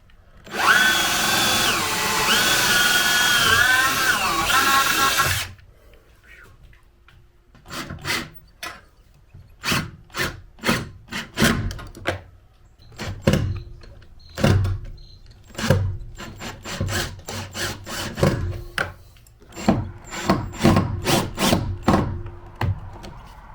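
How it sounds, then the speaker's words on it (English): A power drill whines steadily for several seconds, drilling pilot holes through metal on a box van truck, then a series of short bursts and clicks follow in an uneven rhythm, close by. "Got to drill some pilot holes to go through the metal, and then we'll drill it into the wood."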